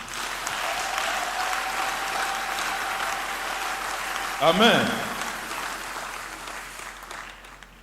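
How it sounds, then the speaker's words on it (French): A church congregation applauding at a French-language deliverance service, a steady wash of clapping throughout with a preacher's voice briefly rising over it in the middle. "Applaudis le Seigneur."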